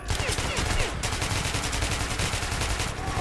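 Rapid bursts of automatic gunfire from the video game Metro, loud and close, with shots repeating in quick regular succession across the whole stretch.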